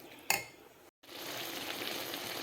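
Grated carrot halwa is stirred in a pan with ghee to dry it out, giving a soft continuous sizzle with one sharp scrape near the start and a brief gap.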